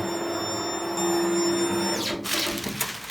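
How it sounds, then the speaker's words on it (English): A DTG printer hums and whines steadily with high tonal mechanical tones while it prepares for print head maintenance, then the tones drop away into a brief whoosh and some clatter. "now it's prepping the printer for maintenance"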